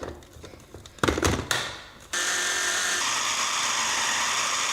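A food chopper finely grinding cheese, garlic and black pepper for a spread runs as a steady, loud motor whir. Some handling knocks come first, and the motor then holds constant to the end.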